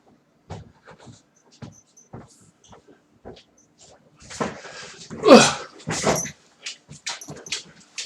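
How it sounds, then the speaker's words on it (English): Frank, a dog, lets out a string of short, close barks, scattered at first and then louder, longer bursts in the middle, with quiet gaps between them. "My dog is the best doorbell going."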